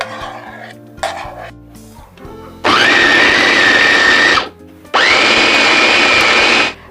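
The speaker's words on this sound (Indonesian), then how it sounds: "Setelah dipotong-potong, daging sapinya saya giling ya." Electric chopper grinding chunks of beef, two loud steady whirring bursts of a couple of seconds each, the motor pitch rising as it spins up, after a few short clatters of the bowl.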